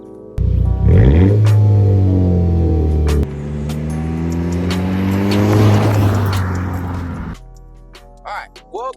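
A Volkswagen GTI with a DSG gearbox accelerates close by, its engine rising in pitch through a quick upshift, then climbing again before easing off and cutting out.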